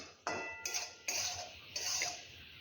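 Grated coconut roasting in a kadhai over a medium flame, stirred in four separate sharp scraping, clinking strokes of a spoon against the metal pan, each fading before the next.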